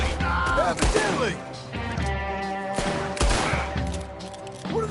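Rapid gunfire rings out in a Red Dead Redemption gunfight, with several loud shots and crashing bursts close together over a sustained game background, and a voice speaking underneath.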